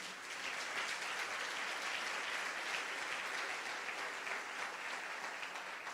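A church congregation applauds during a communion service, dense continuous clapping from many people that holds steady for several seconds, full and roomy.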